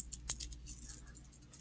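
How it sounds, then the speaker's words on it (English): A blue fidget spinner with loose bearings rattles in a thin, scratchy run of close clicks, with one sharper tick near the start and no voices. "it makes like a rattly sound because the bearings are loose"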